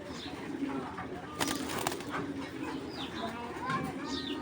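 Giribaz pigeons, a pair of male and female, coo softly in the background while someone talks close by, with faint bird calls and distant children's voices.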